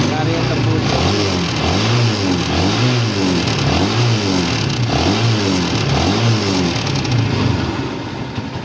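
A smoky, oil-burning Kawasaki Barako motorcycle engine revs repeatedly in rising and falling waves after an oil change, loud and close, with a voice talking over it.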